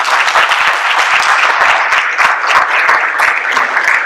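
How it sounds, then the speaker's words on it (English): Audience at a school board meeting breaks into steady, dense applause, many hands clapping loudly and continuously throughout without pause. "can we give them a round of applause?"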